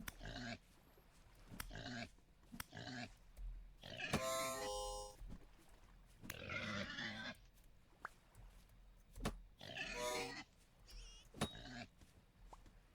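Pigs in the video game Vintage Story grunt and squeal in repeated short bursts, close and fairly loud, with clicks and other game sounds between them.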